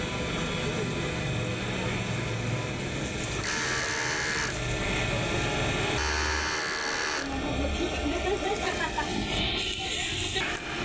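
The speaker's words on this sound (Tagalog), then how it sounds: "Head clean." A DTF printer running a print head cleaning cycle, a loud continuous mechanical whir with pump-like hum whose pitch shifts in stages, overlaid by a person talking throughout.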